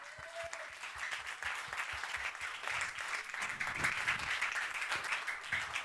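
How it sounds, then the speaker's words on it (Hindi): A church congregation at New Life Assembly Church in Dwarka applauds in a dense, even wash of clapping that holds steady for several seconds, with a faint voice underneath. "तालियां यीशु मसीह के लिए।"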